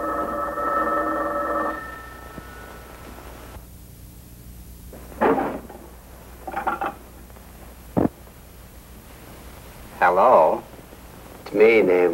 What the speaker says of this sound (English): This is my private phone, Flat Top.